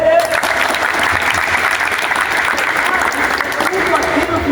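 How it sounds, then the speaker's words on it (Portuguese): An audience at a talk for teenagers, held at the final of a championship, bursts into sustained applause: dense, steady clapping that stays loud and even throughout, with some voices mixed in. "Uma salva de palmas para ele."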